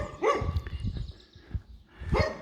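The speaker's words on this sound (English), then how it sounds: "Oh, there's a dog here. Oh, there's two dogs here." A dog barks near a war memorial in a village, giving a few close, loud barks in two bursts with a quieter gap between them, and no talking.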